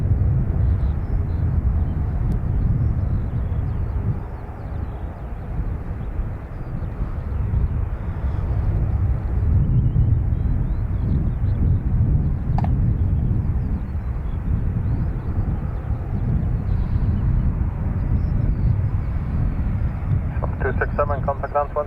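An aircraft returns to Dublin Airport after a test flight, its low engine rumble droning continuously under a voice and a faint radio crackle near the end.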